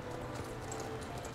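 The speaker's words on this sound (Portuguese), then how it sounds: "Esse aqui é o cavalo novo." An Ardennes horse in the Star Stable video game, its hooves clip-clopping in a steady, muffled rhythm against a dense, constant background.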